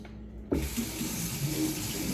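A kitchen tap turns on abruptly and water gushes steadily into a sink for rinsing, a close, continuous splashing rush that starts after a brief quiet moment.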